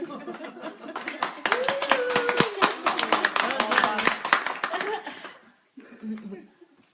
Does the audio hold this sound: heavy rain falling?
no